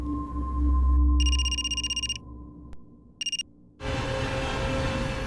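Telephone rings in a home, two bursts of electronic trilling ringtone separated by a short pause, clear over quiet room noise with a low hum, then a louder broadband rush of background noise.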